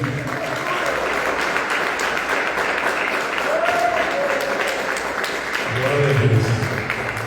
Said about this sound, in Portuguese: Palmas para Jesus, bem amém.